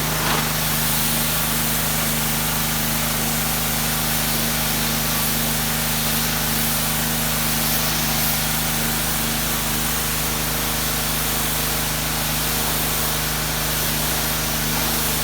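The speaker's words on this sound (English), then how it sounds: "We're gonna power wash the floor and the walls." A steady, loud hiss of a pressure washer spraying a spray booth floor continuously without pause, with a constant motor hum underneath.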